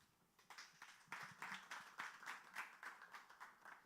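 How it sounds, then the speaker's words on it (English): A few people clap for Sarah in a sparse, rhythmic burst that starts and keeps a steady beat. It is faint and fairly close, with no one talking over it. "Another hand clap for Sarah."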